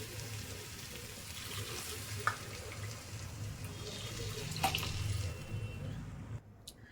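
Water poured into a cooking bowl during preparation of bisi bele bath, after frying, giving a steady low running splash that continues alone before cutting off near the end.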